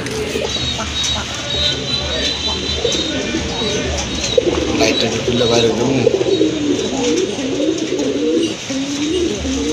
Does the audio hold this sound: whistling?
no